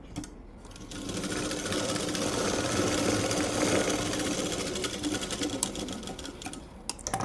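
A sewing machine runs steadily while stitching a cloth joint on a large-size blouse sleeve, a close, continuous rapid whirring that slows and stutters toward the end.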